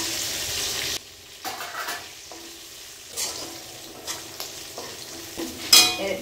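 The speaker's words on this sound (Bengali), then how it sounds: "গ্রেটেড আদা দিয়ে দিচ্ছি, কাঁচা লঙ্কা দিয়ে দিচ্ছি, কাজু বাদাম" Grated ginger, green chilli and cashews fry in a pan for pongal, a loud hiss at first, then softer crackling with scattered stirring scrapes and small clinks.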